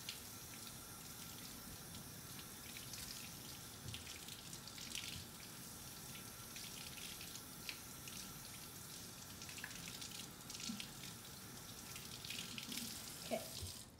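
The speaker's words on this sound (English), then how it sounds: "Letting the water from your fingertips fall down to your elbows." A tap runs steadily into a sink while hands and arms are rinsed, fingertips held above the elbows, with a continuous splashing hiss and occasional louder spatters and no talking.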